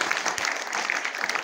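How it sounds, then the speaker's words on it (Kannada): An audience at a residential school event claps loudly in a dense, continuous burst of applause. "ಒಂದ್ಸಲ ಜೋರಾದ ಚಪ್ಪಾಳೆ"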